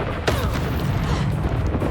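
Confringo explosive spell cast in Hogwarts Legacy, a dense rumbling blast with a sharp crack near the start, sustained amid loud game effects and clutter.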